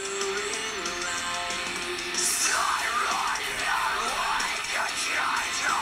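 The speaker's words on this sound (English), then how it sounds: "And there's the screaming." Harsh screamed vocals in a song ring out over dense, loud band music with distorted guitars and drums, continuous throughout.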